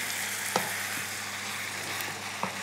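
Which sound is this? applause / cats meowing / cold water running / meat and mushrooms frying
meat and mushrooms frying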